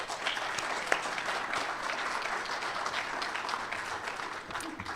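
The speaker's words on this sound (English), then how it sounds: "so let's give them a round of applause." Steady, moderately loud applause fills an awards ceremony hall, a continuous wash of many hands clapping at an even level throughout.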